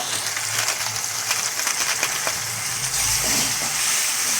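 Tomato and turmeric fry in a pan, giving a steady close hiss and sizzle with faint stirring scrapes throughout.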